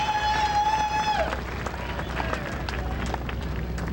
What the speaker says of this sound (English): it has been such an enthusiastic crowd. They've been making some noise